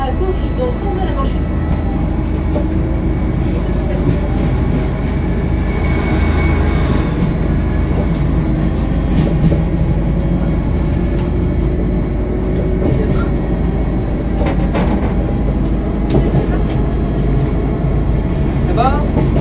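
A train on the Quiberon rail line rumbles steadily from inside a carriage, a continuous loud roll with clacks and squeals over the rails, while a voice and announcements come through on top.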